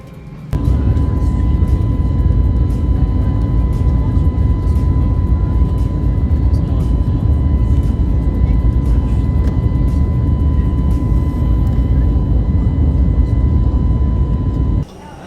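Steady, loud roar of a jet engine inside an airplane cabin, an unbroken drone with a faint constant hum, ending abruptly.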